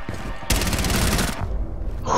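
Rainbow Six Siege gunfire erupts as a loud, close burst of rapid automatic shots lasting nearly a second, then stops and leaves quieter game sound behind.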